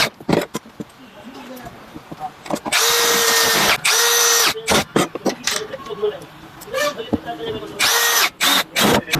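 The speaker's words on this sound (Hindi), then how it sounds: "अब हम लोग इसका चारों स्क्रू को टाइट कर देते हैं।" Power tool whirring in repeated bursts while the four gearbox screws of a Camron Pro angle grinder are tightened during an armature repair, loud and close with clicks and scrapes between runs and someone talking over it.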